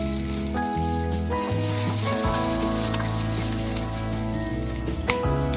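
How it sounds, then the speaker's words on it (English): Green chilies, cumin and sesame seeds sizzling steadily in hot oil during a stir fry over medium flame, a continuous crackling fry with no talk. "Mix well and stir fry at medium flame."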